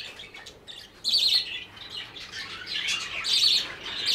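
A crowd of caged pet birds kept for sale chirps, tweets and squawks nearby, high overlapping calls rising into louder bursts against a busy background.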